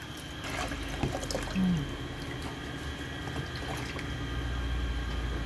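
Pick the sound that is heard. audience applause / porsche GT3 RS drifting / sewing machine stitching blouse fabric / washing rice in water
washing rice in water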